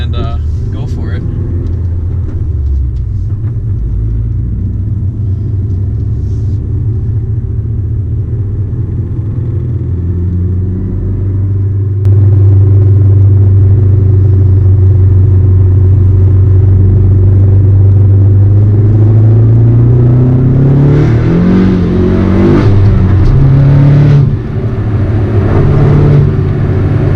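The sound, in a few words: big turbo Ford Focus ST driving and accelerating on road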